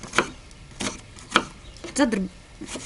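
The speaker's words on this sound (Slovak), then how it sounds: "Poviem im na cibulku krájala, do gulášiku." A knife chops onion for goulash on a board, giving a few separate sharp cuts spaced irregularly, with a short voice sound mixed in among them.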